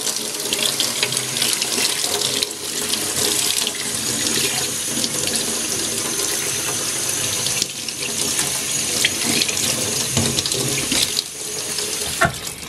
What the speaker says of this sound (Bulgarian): Това, което ще направя сега, е да я изплакна за около минутка под студена вода,